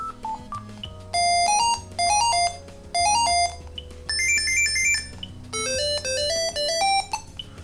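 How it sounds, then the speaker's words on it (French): The default monophonic ringtone of a Gigaset AS405 cordless phone plays short beeping melodic phrases in bursts separated by brief pauses, bright and electronic. "Donc c'est la sonnerie par défaut."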